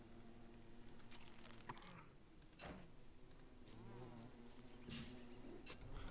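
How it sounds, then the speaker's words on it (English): A bee buzzes in a survival video game, a faint, thin insect drone that wavers and fades in and out over several seconds, quiet and with no talk. "We just caught a bee."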